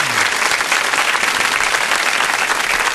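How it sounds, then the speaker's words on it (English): Talk show studio audience breaks into dense, steady applause, loud and close, with a faint cheer inside it and no talk over it. "Big applause."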